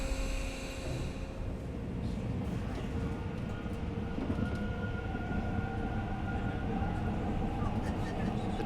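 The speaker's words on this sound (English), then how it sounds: "The train is picking up speed." Train running through a tunnel, a continuous low rumble and rattle of wheels with faint metallic tones that grows slightly fuller as it goes.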